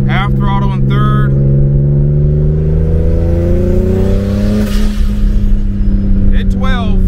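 Turbocharged BMW E36 engine pulling at half throttle in third gear, a loud, close, steadily rising drone heard from inside the car, with someone speaking briefly at the start and end.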